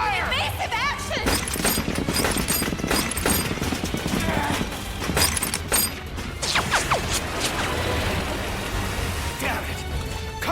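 A skirmish line lets off a volley of rifle fire in an anime battle, dense crackling shots and crashing impacts piling up amid shouting voices and chaotic background noise.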